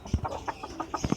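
A paper white Ko Shamo chicken gives a quick run of soft, close clucks, about eight short notes in just over a second.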